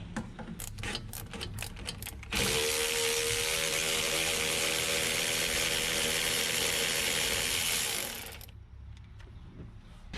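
A ratchet wrench clicks rapidly while loosening a 15 mm sway bar nut on a NewEdge Mustang GT, followed by a loud, steady whirring power-tool run of about six seconds that then cuts off.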